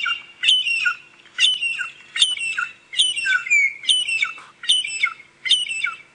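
A recorded shrike call played through a device speaker during an evening safari drive: seven sharp, squawking chirp phrases repeated at an even pace, each about half a second long, clear and fairly close, with no talk.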